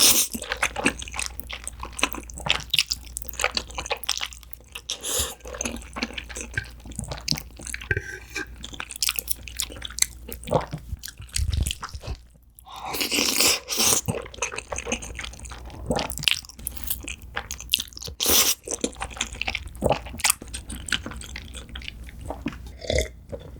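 Close, wet chewing and crunching of sea urchin roe cream udon and sea urchin rice, steady bites and slurpy mouth sounds throughout with brief pauses, no talking.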